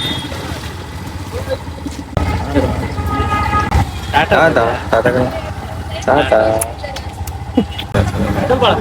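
An auto rickshaw pulls up with a steady, rough engine drone close by, running on under near-constant talk from people nearby, with a few louder bumps and rattles along the way.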